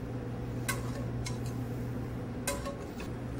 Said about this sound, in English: Basically, just spoon the sauce right over the asparagus.